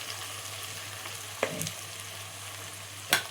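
Brinjal and potato curry frying with chili powder in a pan, a low continuous sizzle with two sharp scraping stirs against the pan, heard close with no talking.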